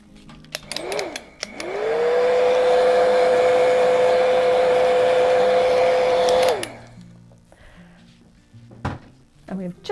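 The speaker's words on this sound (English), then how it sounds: "I'll give it another quick dry." Hair dryer switched on to dry paint, a loud steady whine held for about five seconds before cutting off, with light handling knocks before and after.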